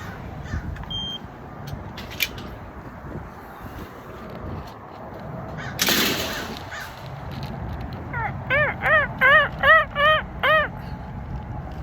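A bird, likely a crow, gives a run of about six loud harsh caws in quick rhythm near the end, following a brief rushing burst, over steady outdoor wind and background noise.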